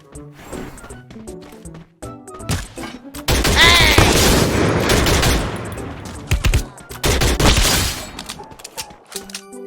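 Rapid gunfire from a teammate in the mobile game Free Fire crackles in loud, dense bursts, with a sustained stretch in the middle and scattered shots before and after.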